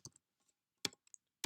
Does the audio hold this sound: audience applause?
no